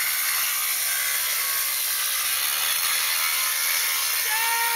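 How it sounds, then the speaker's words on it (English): Stone being cut for a wall with a power saw, a loud continuous high-pitched grinding whine that stays constant throughout, close by and without pause. "There's Amos cutting some stone here for the wall"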